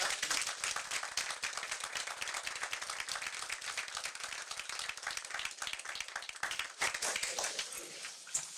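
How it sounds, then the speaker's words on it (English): A room of people at a town board of commissioners meeting in Kill Devil Hills gives steady applause for the finance department, dense crowd clapping throughout, somewhat distant and faint, without speech. "we'll give them a round of applause"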